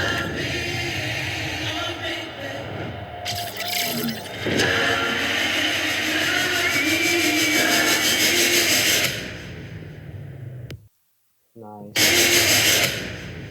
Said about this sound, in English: pairing that riser to impact